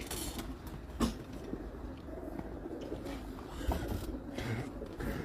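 Pigeons kept by a fancier in Hafizabad coo softly and low, with faint creaks and a couple of sharp knocks in a quiet setting.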